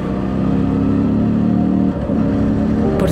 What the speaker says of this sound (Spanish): pero amo más el sonido de la motocicleta.